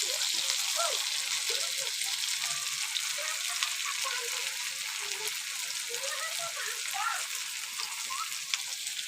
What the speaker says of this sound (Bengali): আলুটা এমন করে ভাজবে যেন একটু হালকা সিদ্ধ মতন হয়ে যায়